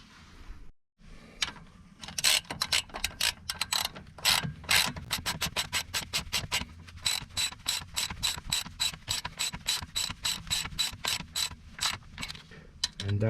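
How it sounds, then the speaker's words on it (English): Ratchet wrench rapidly clicking as a 13mm bolt is tightened on the front suspension strut of a Peugeot 407 SW, a long run of dense, close, steady clicks with a brief pause near the start. "we're gonna use that 13mm bolt and secure this one back in place as well"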